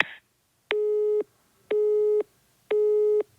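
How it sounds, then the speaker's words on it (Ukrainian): Telephone busy signal after an unanswered call: three evenly spaced steady beeps, each about half a second long and separated by equal silences, clear and alone after a brief click at the start. "Номер абонента, якому ви телефонуєте, зайнятий, або абонент відхилив ваш виклик."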